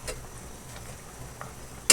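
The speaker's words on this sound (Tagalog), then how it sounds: "Haluin na lang natin." Sweet potato leaves sauté in a pan, giving a soft steady sizzle with faint stirring scrapes, ending in one loud close clack of a utensil against the pan.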